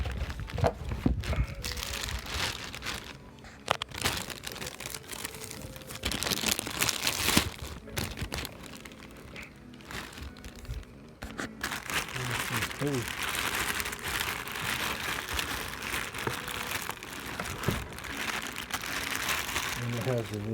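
Plastic packaging from a Pro-Lok Blue Punch key-cutting tool for Schlage keys crinkles and rustles steadily while it is unwrapped up close, with brief sharper crackles throughout and a person talking.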